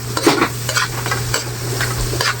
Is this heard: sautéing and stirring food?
yes